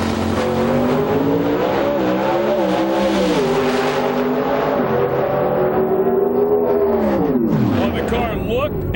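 An IHRA alcohol funny car roars down the drag strip at full throttle, a loud sustained engine howl whose pitch climbs and shifts through the run before dropping away at the end, with a commentator talking over it.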